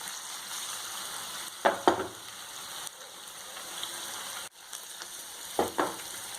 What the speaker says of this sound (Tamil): எப்பயுமே பன்னீரை மீடியம் ஹீட்டில் தான் ஃப்ரை பண்ணணும்